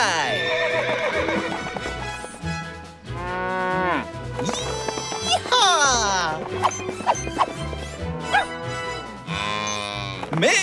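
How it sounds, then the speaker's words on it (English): Horse whinnies mixed with cattle mooing and hooves clip-clopping on a ranch ride, loud and busy with layered animal calls over lively background music, with a speaking voice now and then. "Riding horses is a big part of the job."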